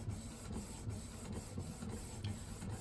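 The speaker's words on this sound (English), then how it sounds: "Now this printer, this MX920, is a great printer around the board" A Canon MX922 inkjet printer printing onto PVC cards, giving a continuous mechanical whir with regular rhythmic clicks and thumps from the feed, close and steady with no voices.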